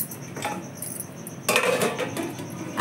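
Metal plate set onto a pot of water on a gas stove: light metallic clinks and a clattering scrape, with one sharper clanking contact midway, close and fairly loud with no talking.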